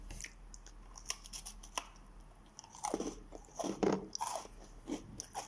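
Oreo cookies of assorted flavors, including a milk-and-chocolate one, crunched and chewed close up in a series of irregular bites, the crisp cracking growing louder and denser toward the end, with no talking.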